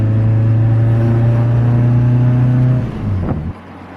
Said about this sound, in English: Hear the little spoolie noises.